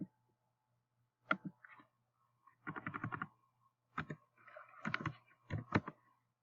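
Several sharp computer mouse clicks on an edit button while building a one-page website, arriving in short separate bursts with quiet gaps between them.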